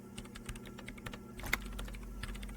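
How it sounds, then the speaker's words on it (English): Steady clattering of keys on a keyboard, fast and continuous, with a slightly louder keystroke near the middle over a low background hum, in the video game Disco Elysium. "Her hands typing hundreds of commands into the machine."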